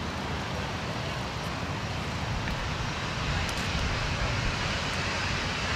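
Jetstar airliner landing on runway 16 right at Sydney Airport, a steady broadband jet roar holding loud and constant throughout, heard from nearby with no voices.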